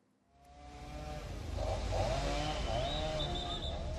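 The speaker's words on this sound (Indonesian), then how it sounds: "Dengan menggunakan gergaji mesin," A chainsaw cuts into the trunk of a fallen tree that landed on a car in Mojokerto, East Java, the engine revving up from quiet into a steady, loud, buzzing whine with wavering pitch, close by and without speech.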